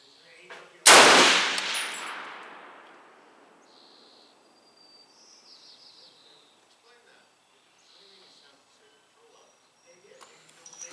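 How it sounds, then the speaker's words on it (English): Single loud M-1 rifle shot firing a Speer 168 bullet outdoors, a sharp crack followed by a long rolling echo that fades over a couple of seconds, then faint chirping birds and quiet background. "Let's fire another shot."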